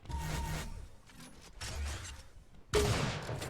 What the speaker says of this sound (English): that's a good sniper to start it off with